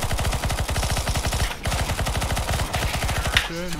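A Bizon submachine gun fires in a video game, with long, loud, rapid bursts broken by two brief pauses. A voice is heard at the very end.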